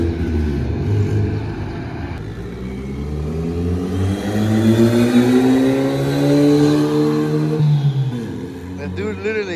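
A Honda Civic engine revs at full throttle through a pull, a rising drone that climbs steadily in pitch for several seconds before dropping off, with people talking faintly over it.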